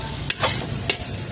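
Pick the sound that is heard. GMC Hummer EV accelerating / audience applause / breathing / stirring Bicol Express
stirring Bicol Express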